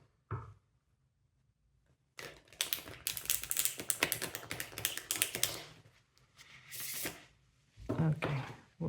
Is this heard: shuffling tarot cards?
yes